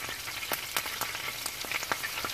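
Eggs and cheese fry on an iron griddle for sausage egg cheese muffins, a steady close sizzle with scattered sharp pops and crackles throughout.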